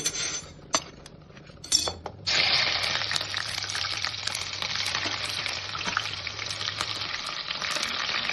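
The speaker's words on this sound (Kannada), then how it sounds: "ಸಾಸಿವೆ ನಂತರ ಈರುಳ್ಳಿನ ಫಸ್ಟ್ ಹಾಕಬೇಕು" Onions hit hot oil with mustard seeds for biryani: after a few clinks and knocks of a utensil, a loud, steady sizzle bursts up and keeps hissing close by, with occasional stirring taps.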